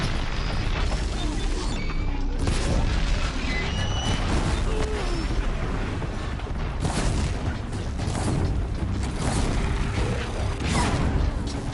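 A weapon fires repeatedly at a machine in Horizon Zero Dawn, with loud bursts and booms over a dense, continuous clatter of mechanical combat noise.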